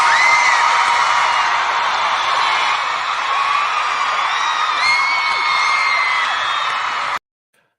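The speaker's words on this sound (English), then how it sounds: "Round of applause." A lively crowd cheers, whoops and claps in a sustained burst of applause that stays loud for about seven seconds, then cuts off abruptly into silence.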